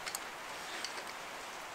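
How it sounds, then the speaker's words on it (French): Light rain falls outdoors at a shooting range, a faint steady hiss with a few soft drop ticks, distant and uniform throughout. "j'ai choisi ma journée, il pleut."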